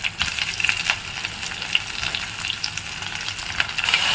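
Onions, chillies, curry leaves and tomatoes sauté in hot oil for a fish curry, giving a steady, close crackling sizzle with scattered sharp pops and occasional stirring scrapes throughout.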